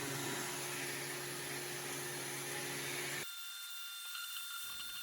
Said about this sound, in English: And of course this gets some sanding as well.